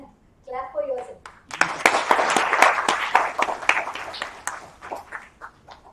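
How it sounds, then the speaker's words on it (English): A science-show audience claps together after being told to applaud themselves, a dense burst of hand claps that starts after a brief voice, peaks quickly and then thins into scattered claps. "Clap for yourself."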